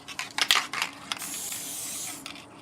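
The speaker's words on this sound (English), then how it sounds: "it's spraying like it doesn't want to work" A spray paint can, used to paint a Beyblade disk and spraying poorly, sputters in a few short uneven bursts, then settles into one steady close hiss before cutting off.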